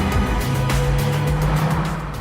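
A Mazda RX-7's 1.2-litre twin-rotor rotary engine hums steadily as the car drives, a smooth continuous drone with tire and road noise, close and fairly loud.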